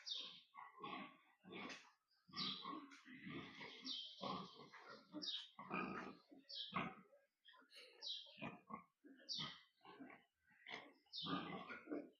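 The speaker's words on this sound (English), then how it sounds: "So we'll go and check the pigs." Pigs on a farm grunt and oink in rapid, overlapping bursts, close and fairly loud, with short pauses between clusters of calls.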